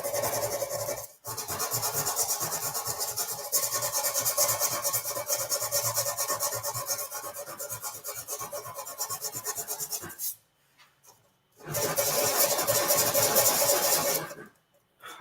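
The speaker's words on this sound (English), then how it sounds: "If you're going to start sanding, yes, you can do it with your thumb lightly a little bit" Sandpaper worked by hand over a motorcycle fuel tank, a continuous dry rasping close to the listener that runs for several seconds, stops briefly, then resumes in another sustained stretch.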